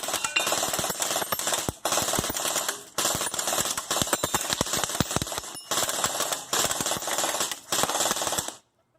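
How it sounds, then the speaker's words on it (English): A Krytac Kriss Vector airsoft gun fires full auto in several long rapid bursts with short pauses between them. The mechanical rattle is close and loud and ends abruptly. "I'm going to go full auto on these things"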